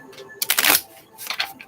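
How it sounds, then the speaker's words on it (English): Tarot cards riffled in a quick shuffle, a short burst of papery flutter followed by a second softer ripple, close and moderately loud in a quiet room. "shuffling the cards, and I'm just going to pick one"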